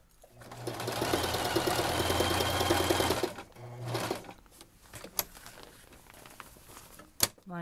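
A sewing machine stitching a baby changing mat runs in a steady fast whir for about three seconds, then a brief second burst, followed by quieter handling clicks and a couple of sharp knocks.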